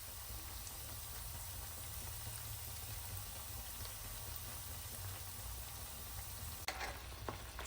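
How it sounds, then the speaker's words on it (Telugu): Bread slices fry in hot oil in a pan for a sweet dessert, giving a steady, close sizzle that continues throughout, with a few faint clinks near the end. "ఆయిల్ హీట్ అయిన తర్వాత బ్రెడ్ స్లైసెస్ వేసుకోండి"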